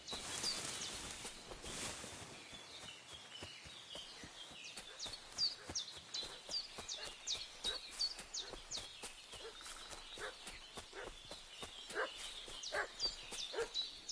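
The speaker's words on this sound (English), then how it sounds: "What's that dog making such a fuss about?" A dog barks repeatedly in Kingdom Come Deliverance 2, a rapid series of yelps and barks at middle distance, quieter at first and then growing busier and more insistent.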